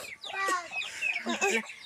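Chickens cluck and squawk up close in two short bursts, fairly quiet, with no talking.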